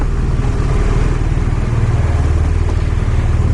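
A BMW R1200RS motorcycle being ridden on a cold day, its engine thrumming in a steady low pulse, loud and close, with wind noise and no talking.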